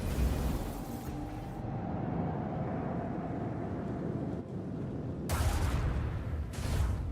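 Spaceship battle in Warhammer 40,000: Rogue Trader, with a dense rumbling roar of gunfire and torpedo fire, low booming texture throughout and sharp bright blasts erupting near the end, no voices.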